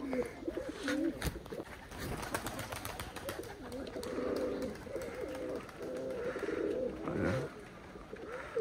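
A homing pigeon being flown and conditioned for endurance coos in steady low rounds, fairly faint and close, with a few sharp knocks and little else around.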